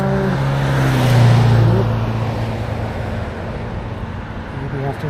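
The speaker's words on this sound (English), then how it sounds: "Maybe after this car." A car passes close by on Main Street, a loud engine and tire swell that peaks early, then fades into steady traffic rumble.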